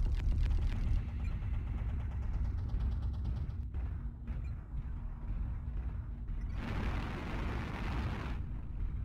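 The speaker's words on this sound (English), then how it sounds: "Artillery strike online." Artillery strike explosions in the video game SCR on the Prime Canyon map: a loud continuous low rumble of blasts and debris, with a bright crackling burst swelling near the end, no talk.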